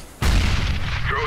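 A grenade goes off in CS:GO on the de_nuke map, one sharp, loud blast at close range followed by a rumbling tail that fades over the next second.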